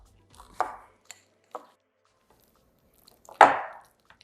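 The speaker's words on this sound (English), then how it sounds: "with the masher, you're just gonna take your bananas and try to get them as mashed as possible" Ripe bananas are pressed with a masher in a bowl, giving a few soft, scattered thuds and squishes close by, with one louder mash near the end and quiet gaps in between.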